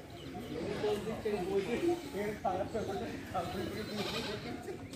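Goats bleating on a hillside at Ajodhya Pahar in Purulia, with several wavering calls repeating close by and people talking over them throughout.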